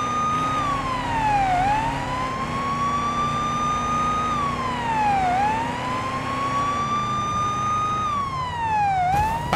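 Police car siren in the video game Police Simulator Patrol Officers, a loud wailing tone rising and falling in repeated sweeps over an engine hum, with no talking.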